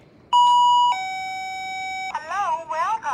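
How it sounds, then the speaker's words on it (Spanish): A motion-sensor alarm with a laser beam goes off when crossed, giving loud steady electronic tones that then shift into a warbling, wavering siren-like pattern, close and alone. "Tú cruzas ese láser y se activa y suena."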